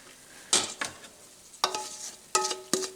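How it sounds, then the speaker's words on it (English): Half and half and all-purpose flour whisked together for slow cooker potato soup, several quick, bright metallic strokes and clinks against a bowl in uneven bursts, close with quiet gaps between. "Let's just go ahead and whisk that together."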